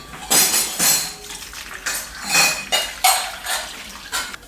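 Water chestnuts being rinsed in a bowl or pan of water, a series of splashy clinks and sloshes in short bursts, close and moderately loud, with no talking.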